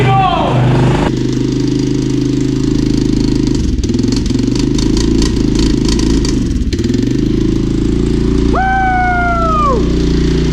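Old ATV engine that sat outside for two years, running with a loud, steady idle throughout, close up, while people talk and cheer over it.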